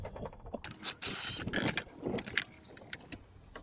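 Socket wrench with a metal pipe for leverage breaking loose the starter bolts on a Honda Accord 3.0L V6, giving close metallic clicks and clanks, a brief ratcheting rasp and scraping bursts of tool against metal.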